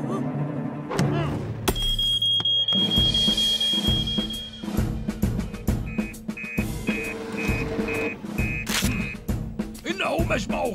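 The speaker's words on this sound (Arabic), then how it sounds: "انذار كاذب آخر بالتأكيد يا سامي" An alarm goes off in a Fireman Sam cartoon: a steady high electronic tone, then a run of quick repeated beeps, mixed with cartoon music, thumps and characters talking.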